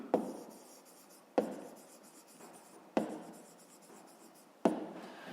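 A pen scratching quickly on paper while a fifth-grade maths exercise is written out by hand, four separate bursts of writing, each starting with a sharp tap and fading, close and quiet with no talk.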